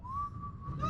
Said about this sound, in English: Oh, how's your whistle melting me?